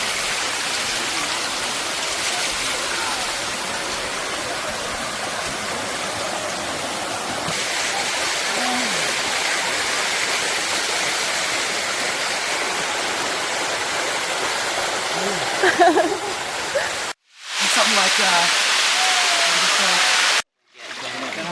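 Rushing water at Buatong waterfall, a steady loud broadband roar that continues throughout, briefly cutting out twice near the end, with people talking faintly in the background.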